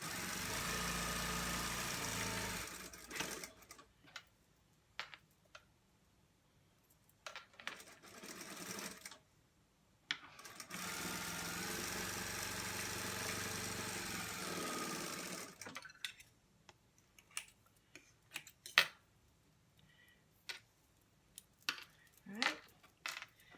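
A sewing machine hems fleece fabric in two long steady runs of close, even motor whir, separated by pauses with handling clicks and faint talk.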